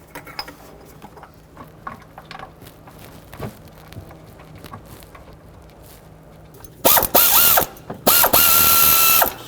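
A hand ratchet snugs the thermostat housing bolts on a Chevrolet Express van, starting after quiet handling noises with two loud, close bursts of rapid clicking near the end.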